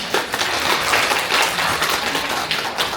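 A lecture audience at an anniversary event bursts into sustained, dense applause welcoming a professor, steady clapping filling the hall throughout.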